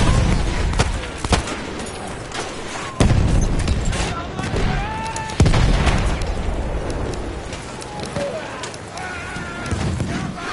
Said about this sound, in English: Throwing a grenade, watch it!